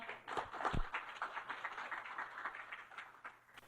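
Faint, steady applause from a seminar audience on logistics digital transformation, welcoming a guest presenter. Soft, dense clapping runs evenly for the whole stretch, quiet and somewhat distant, with no voices over it.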